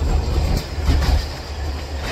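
Train running on rails near the Romania–Bulgaria border, a loud, close rumble with rhythmic clacks of wheels over rail joints and faint squeals.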